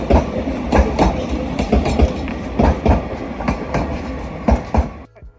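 Train 331026 rolls past at Manchester Piccadilly station with loud, close, rhythmic clickety-clack from the wheels over rail joints, a steady rumble underneath, fading at the end.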